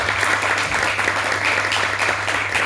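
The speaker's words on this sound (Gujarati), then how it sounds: "મહારાજને એકવાર જોરદાર તાળીઓ બજાવો" Large temple gathering of devotees at a Swaminarayan mandir in Melbourne bursting into loud, dense applause that holds steady throughout, over a faint low hum.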